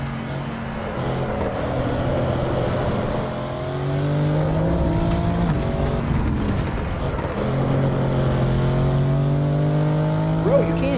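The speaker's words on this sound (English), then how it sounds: "I'm just sliding the car on purpose" A video-game car engine drones and shifts pitch as the car drives and slides on purpose, steady engine tone rising and falling through gear changes with faint background noise.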